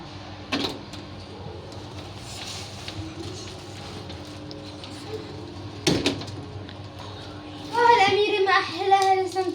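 A door at home is opened with a couple of sharp knocks and clicks from the handle and latch, followed by someone speaking excitedly near the end.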